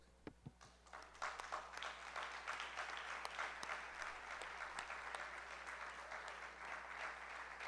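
Applause from a congregation at a church service, a dense wash of many hands clapping that builds after a few scattered early claps and holds steady at moderate distance, without talk.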